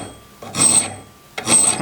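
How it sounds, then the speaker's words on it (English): Metal file rasping along the edges of dado plane irons in a hand-tool woodworking shop, two separate strokes, close and fairly loud, with a pause between them. "So I'm just going to file these"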